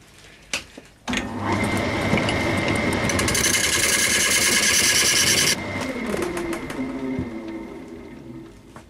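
A wood lathe spins a beech bowl blank while a tool scrapes it, giving a loud steady whirring and rasping hum that drops in intensity partway through, close up with no talking.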